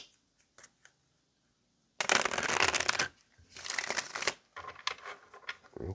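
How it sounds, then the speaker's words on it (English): A tarot deck is shuffled close up in two or three papery riffling bursts, each a dense flutter of cards lasting about a second, after a few quiet taps and clicks, with no talk. "Let's get one more shuffle."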